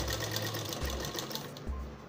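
Domestic sewing machine running steadily while stitching elastic into a shorts waistband, a soft close whirring hum with faint rhythmic ticking and a couple of brief pauses in the motor.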